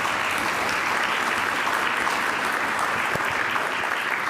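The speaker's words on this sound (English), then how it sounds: "please, a round of applause." Steady audience applause fills a symposium hall, dense clapping from a large crowd held at an even level throughout with no pauses.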